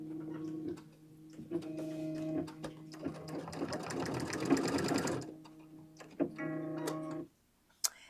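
A sewing machine stitches fabric in close, loud bursts of rapid mechanical clatter, pausing briefly between runs before a final stop and a short click.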